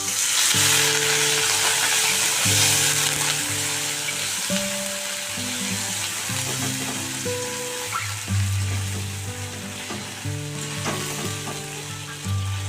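Ground masala hitting hot oil in a pan with a splash of water, giving a strong steady sizzle and spatter while a spoon stirs, with scraping and knocking against the pan over a low background hum.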